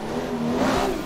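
An 800HP Toyota Supra in a racing game revs hard after an upshift, a steady, rising engine drone with a tonal buzz, heard alone and fairly loud.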